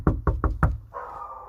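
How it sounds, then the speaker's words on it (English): Four sharp knocks on a door in the dark, evenly spaced and loud, followed by a steady hum. "now we're gonna knock"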